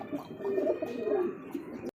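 Soft, low cooing from a pair of Indian Kagzi pigeons, a continuous throaty murmur close by with no voices.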